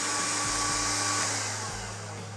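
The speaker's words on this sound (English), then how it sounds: "bought a fancy new vacuum cleaner" A new household vacuum cleaner runs steadily and loudly at close range, a continuous whine with a broad high hiss and low motor hum, with no talk over it.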